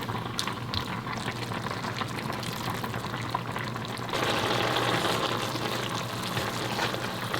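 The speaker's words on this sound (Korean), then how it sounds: "이렇게 자글자글자글 끓여주시면 되는데요." Butterbur stems with chili powder simmering and bubbling in a pan, a steady close crackle and burble that grows slightly louder partway through, with no talk.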